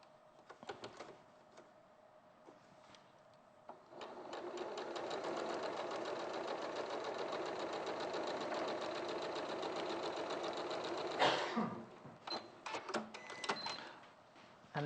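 A sewing machine runs a straight seam on a quilt block, whirring steadily for several seconds after a quiet start, then stopping with a few soft clicks and knocks.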